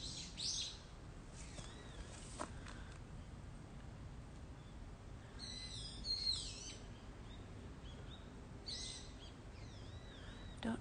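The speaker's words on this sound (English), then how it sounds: "Don't know what kind of bird that is." Bird calls near Kinshōji, a Buddhist temple, with faint, scattered chirps and whistled notes coming and going over a steady outdoor background hiss.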